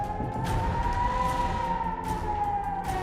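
A loud, sustained war siren wails with a single tone that slowly rises and falls, over a low rumbling background.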